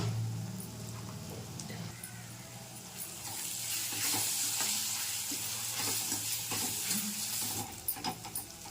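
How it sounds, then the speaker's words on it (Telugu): Ginger-garlic paste with turmeric frying in a pan for a goat head curry, giving a steady close sizzle with stirring scrapes throughout. "ఈ అల్లం వెల్లుల్లి పేస్ట్ పచ్చివాసన పోయేంత వరకు వేపుకొని"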